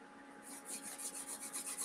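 Palms rubbing briskly together in a steady rhythm of repeated raspy strokes during a self-massage exercise, close and clear with no talking.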